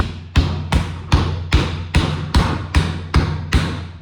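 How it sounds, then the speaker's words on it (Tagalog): A hammer strikes a durian fruit in steady repeated blows, about ten dull thuds at an even rhythm, each a close, heavy knock with a short rattling tail and no voices. "I don't have force, so I will use martilyo."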